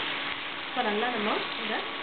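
Onion and eggplant frying in a pan for an onion masala, a steady broadband sizzle with a voice speaking over it partway through.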